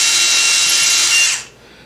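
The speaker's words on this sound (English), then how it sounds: "So the first thing we did is take our drill" A power drill bores holes into a wooden bowl blank, a steady loud whine running close and continuous for over a second before cutting off abruptly, leaving a faint hum.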